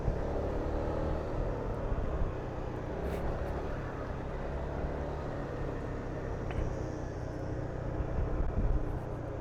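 A Honda Forza MF17 scooter rides along a mountain road, its engine a steady low rumble under constant wind roar, close and continuous with no talking.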